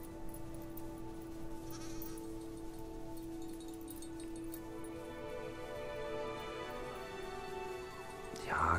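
Sheep in the video game Farewell North bleat in sustained, wavering cries over a low steady hum, ending with a louder burst of noise.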